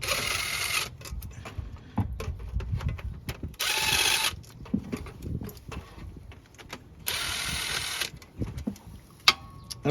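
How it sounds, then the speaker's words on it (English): A ratchet removing 10 mm bolts from the transmission filter pan of a Nissan Infiniti automatic transmission, close rapid clicking runs broken by pauses and brief metallic clanks, with no talking. "you need to take off all these 10 millimeter bolts all the way around"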